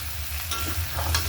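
Cauliflower and potato pieces with green chilli sizzle steadily in a pan while a utensil scrapes and stirs them now and then, close and continuous, with no one speaking.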